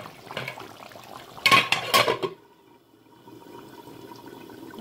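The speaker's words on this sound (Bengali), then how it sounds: "আমি এখনো আবার ঢাকনা দিয়ে দিব।" A metal lid is set onto a cooking pot of deer meat with a few loud clanks and clatters, then the scene drops to a quiet simmering hush.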